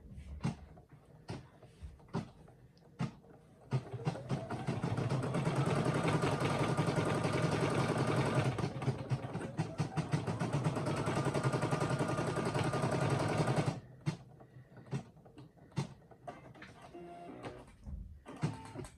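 A Brother SE1900 embroidery machine stitches eyes onto a pillow in a loud, fast, continuous mechanical chatter lasting about ten seconds. It is framed by scattered clicks and handling knocks before and after.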